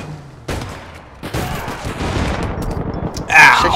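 Gunfire in the online shooter APB Reloaded, rapid loud bursts of shots crackling over a busy game mix, ending in a louder sharp blast.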